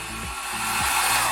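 A GoGo Mini 1000-watt hair dryer running on high while rough drying long hair, a loud, steady close-up blowing roar with brief shifts in tone as the airflow moves through the hair.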